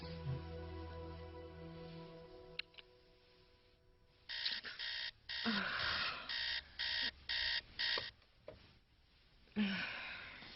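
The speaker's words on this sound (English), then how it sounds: "Remind me to get a new alarm clock." An alarm clock rings in a bedroom: after a quiet, humming stretch, loud electronic beeps start in rhythmic bursts, pause briefly, then sound once more.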